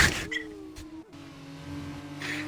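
An F2 race car spins out in a drift, its engine note sliding and then holding steady at moderate distance, with a brief dip in the middle and faint scraping noise, no voices.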